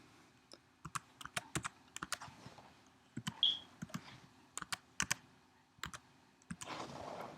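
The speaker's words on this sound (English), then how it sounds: "He's doing something with the computer." Computer keyboard typed on nearby in irregular bursts of sharp, quiet key clicks, with brief pauses between clusters and a short rustle near the end.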